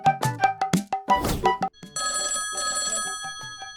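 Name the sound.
telephone ringing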